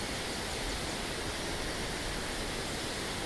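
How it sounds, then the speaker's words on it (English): High Force waterfall on the River Tees, heard as a faint, steady broadband roar of falling water, even and unbroken with no voices. "From the lower point we could see the main waterfall and the view it had."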